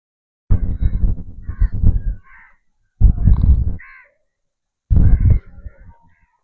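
Crows caw in three loud, harsh bursts separated by short pauses, each a run of rasping calls close by.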